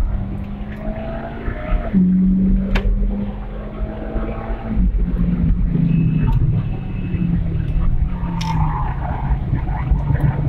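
A supercar (Evo) on the Hampton Downs race track approaches and passes: a loud, steady engine roar with shifting pitch and gear changes over ten seconds, close and dominant.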